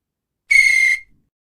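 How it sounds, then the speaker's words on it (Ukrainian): A referee's whistle gives one sharp, bright blast of about half a second, loud and isolated, with silence before and after. "Свисток потрібен, щоб подавати сигнал, якщо сталося яке-небудь порушення або закінчилася гра."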